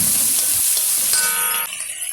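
Sliced onions and dried chillies frying in a pan give a loud, close, steady sizzle and hiss that eases somewhat toward the end.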